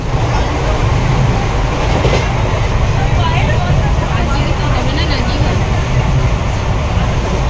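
A train on the journey to Puri, a loud, continuous rumble and rattle of the carriage heard from inside, with voices talking over it.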